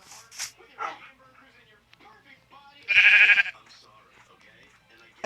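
Dogs attacking sheep: a sharp, loud burst of barking or bleating stands out midway, surrounded by quieter animal calls and a person talking.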